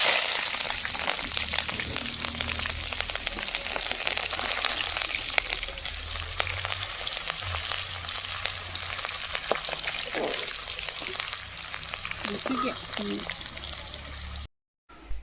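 Partridge frying with curry leaves and green chillies over a village wood fire makes a continuous loud sizzle and crackle, with occasional stirring scrapes and brief voices in the background.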